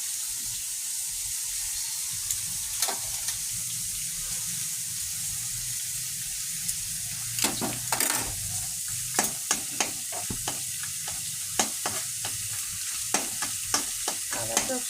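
Steady frying sizzle from a pan of vermicelli upma as chopped ginger goes in, with irregular spoon scrapes and clicks against the pan growing busier over the course of the clip.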